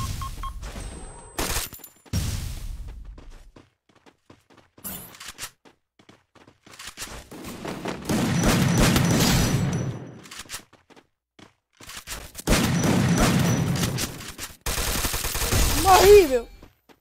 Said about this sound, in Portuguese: É o Tainarão te dando tiro